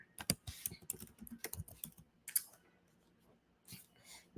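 Rapid typing on a computer keyboard, close and fairly quiet, with irregular bursts of clicky keystrokes, a pause, then a few more taps.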